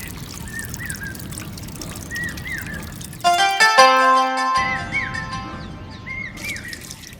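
Water is poured onto plants, starting with a sudden splashing gush that trickles away over a few seconds, while birds chirp intermittently in the background before and after.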